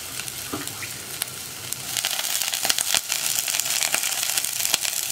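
Curry leaves drop into hot oil with frying garlic and ginger for a vegetable kurma, setting off a steady crackling sizzle that swells after a couple of seconds and carries on with scattered pops.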